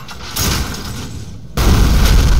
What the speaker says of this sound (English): Now I'm bombing with the shield.